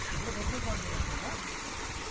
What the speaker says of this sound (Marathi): हे डोंगरातलंच पाणी आलं हो.